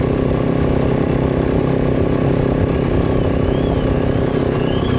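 KOVE 450 Rally motorcycle engine running slightly juddery after a throttle smoothness mod, a loud, continuous close-up mechanical drone with faint clattery unevenness and no talking.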